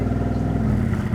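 A Noble M600 supercar engine roars steadily and loudly at a timed supercar shootout, a continuous low-pitched drone that holds for about a second without fading.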